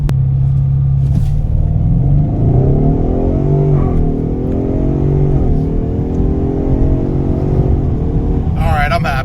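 A rental Ford Mustang in drag strip mode launches hard from a standstill on freshly paved asphalt, its engine rising in pitch through the gears, with a steady loud rumble that holds to the end.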